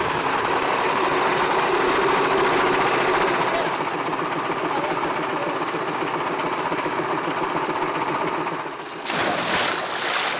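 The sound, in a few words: old air compressor supplying diver's hose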